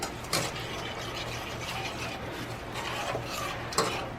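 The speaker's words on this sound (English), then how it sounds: "so now we're just going to stir." Mac and cheese sauce with milk being stirred in a pot, soft continuous scraping and rubbing with a few sharper clinks of the utensil against the pot.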